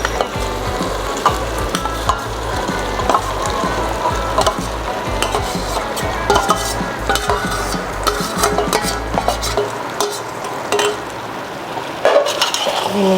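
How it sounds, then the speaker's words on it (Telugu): Marinated vegetables sizzle as they fry in cooked tomato and onion for a paneer vegetable biriyani, with steady stirring scrapes and occasional clinks of a spoon against the pot, close and continuous with no talk. "ఉడికిన ఈ టమాటా ఉల్లిపాయలోకి ఆల్రెడీ 1 అవర్ మ్యారినేట్ చేసుకుని వెజిటేబుల్స్ యాడ్ చేస్తున్నాను."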